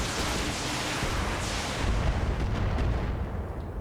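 Mech weapons opening fire in the Battletech video game, a dense continuous roar of artillery-like blasts and rumbling explosions, loud and sustained throughout with no voices.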